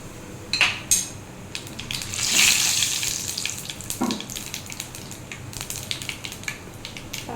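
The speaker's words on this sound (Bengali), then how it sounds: "ভাজার তেলেই প্রথমে কালো জিরে ফোড়ন দেব" Nigella seeds tempering in hot oil left from frying pabda fish, a light crackling sizzle with scattered pops and a brief louder hiss burst, close and alone with some kitchen clatter.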